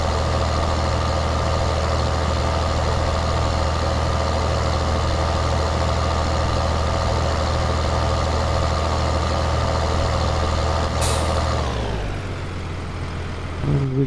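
A tractor engine idles in Farming Simulator 2013, a steady low rumble with a constant hum that holds loud for about eleven seconds, then sharply changes and drops away near the end.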